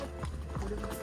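Horses on a hill-station family trip in Matheran give two or three soft hoof clops on the ground, under a brief murmur of nearby voices.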